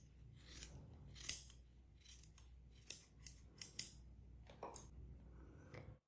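Scissors cut through crochet yarn while a seashell purse is finished, giving a series of quiet, crisp snips spaced irregularly across a hushed room.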